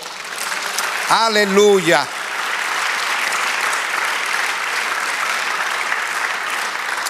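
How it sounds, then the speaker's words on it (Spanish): Church congregation applauding steadily for several seconds as a sustained broad wash of clapping, with a brief spoken exclamation from a voice near the start. "Dale aplauso."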